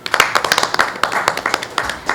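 An audience breaks into applause, a brisk run of distinct, close hand claps in a fairly regular pattern, with some voices faintly mixed in underneath.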